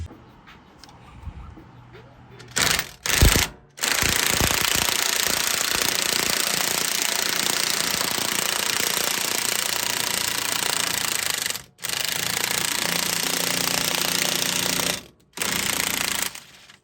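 Impact wrench torquing upper control arm bolts on a 2008 Ford Ranger, a loud, sustained rattling hammer running for long stretches with brief pauses, preceded by a couple of short bursts.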